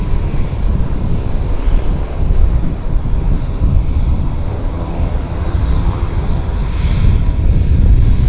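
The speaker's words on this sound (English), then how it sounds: "Very nice aircraft." An aircraft at Vancouver International Airport (YVR) produces a loud, steady engine roar that fills the whole stretch, with gusts of wind buffeting the microphone and no talking.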